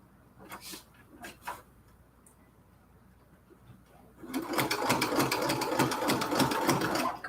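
A sewing machine stitches quilt curtains, a few short bursts of stitching, then a steady rapid run of needle clatter that grows loud and continuous.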